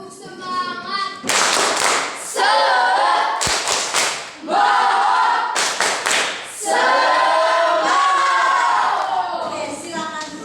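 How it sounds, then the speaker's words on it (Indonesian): A school class at a junior high in Manggarai Timur performs a rhythmic spirit clap. Loud bursts of group clapping alternate with pauses and shouted chanting voices in an indoor room. "Tepuk semangat."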